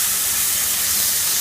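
Pork tenderloin sears in a hot pan with a loud, steady, close sizzle and hiss, continuous and unbroken for a brief moment.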